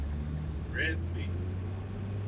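A second-generation truck engine runs smoothly, a steady low idle hum that holds even throughout, with a brief faint chirp in the middle.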